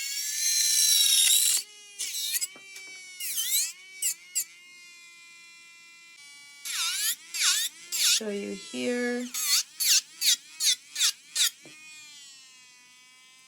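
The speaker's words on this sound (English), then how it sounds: "It is so weird hearing that sound from the drill" A Kiara Sky electric nail drill whines at a high pitch around 25,000 RPM, starting and stopping in short bursts, while a person talks over it.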